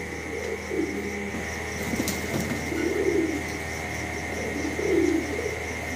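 Fancy pigeons in a loft cooing in soft, repeated low bursts, with a steady hum of background noise and no talking.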